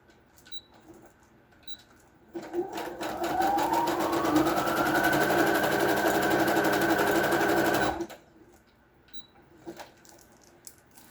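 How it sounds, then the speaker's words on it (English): Sewing machine running a zigzag stitch in one steady burst of several seconds, its rapid rhythmic needle clatter and rising motor whine close by, with faint clicks before and after. "we're going to sew right across there with that same zigzag stitch"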